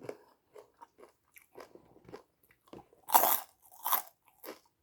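Someone close up eating crunchy fried pork rinds with som tam and vegetables, with bites and chewing in short bursts and two louder crunches near the end.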